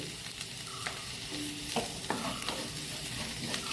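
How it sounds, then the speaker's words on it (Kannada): Grated coconut and turmeric powder roast in a pan for Mangalorean sambar. A soft continuous sizzle runs under repeated scraping and stirring clicks from a spoon against the pan, with no voices. "ಇಷ್ಟನ್ನು ಹಾಕ್ಕೊಂಡು ಸ್ವಲ್ಪ ಹುರಿದುಕೊಳ್ಳೋಣ."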